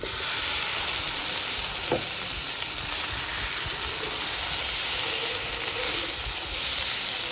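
Steady frying hiss from a hot pan as boiled potatoes and drumsticks go in for a Bengali shukto, a continuous close sizzle with little change throughout.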